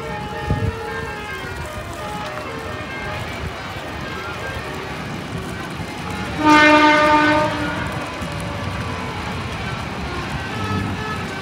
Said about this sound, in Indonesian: Ini pas banget ada kereta lewat.